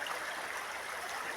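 Kabasalan River flowing clear and steady, a soft continuous rushing hiss of water with no voices.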